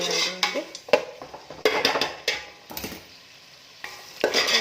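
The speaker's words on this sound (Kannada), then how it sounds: "ಇದಿಷ್ಟನ್ನು ಎಣ್ಣೆಯಲ್ಲಿ ಚೆನ್ನಾಗಿ ಫ್ರೈ ಆಗೋವರೆಗೂ ಒಂದು 5 ನಿಮಿಷದವರೆಗೆ ಬೇಯಿಸ್ಕೊಳ್ಳೋಣ." Carrot and mixed vegetables cook in oil for palak pulao, heard as uneven bursts of stirring, scraping and utensil clatter over a light sizzle, with quieter gaps between strokes.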